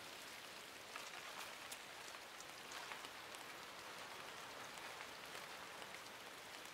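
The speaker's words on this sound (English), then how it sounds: "you can kind of hear all like the individual patterns of the rain droplets hitting those things" Steady rain in the video game Inside patters softly, countless droplets hitting surfaces in a dense, even hiss with scattered sharper drips; faint and continuous, no voices.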